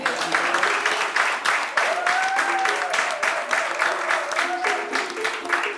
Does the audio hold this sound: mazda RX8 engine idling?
no